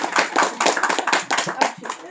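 An audience claps together at a teacher-training session, a dense steady run of hand claps close and loud throughout, with no pauses.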